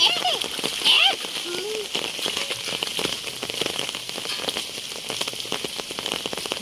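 Rain falling steadily outdoors during fish gathering, a dense hiss of drops pattering on surfaces throughout, with a bird-like chirp early on.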